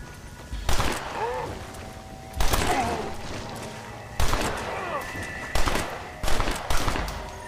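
Gunfire in Red Dead Redemption: Undead Nightmare, with five loud, separate bursts of shots spaced a second or two apart, each followed by a short ringing tail.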